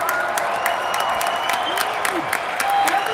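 A conference audience applauds, a crowd's clapping spread throughout under a speaker's voice, with brief cheers amid the steady patter.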